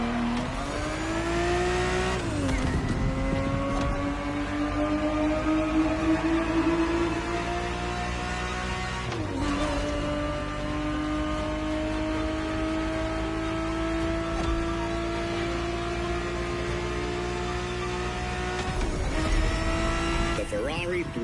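A Ferrari 365 GTB4 engine driving hard, its pitch climbing steadily through long gear pulls with sharp drops at each of three shifts, loud and close, with a voice talking over it.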